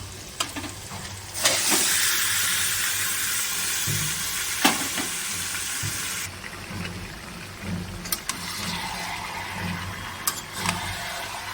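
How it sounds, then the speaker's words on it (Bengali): Marinated chicken hits hot oil with a sudden loud hiss that settles into a strong, steady sizzle, broken by scraping stirs and a few sharp utensil knocks. "এবার আমি ম্যারিনেট করা চিকেনটা আমি ঢেলে দেবো"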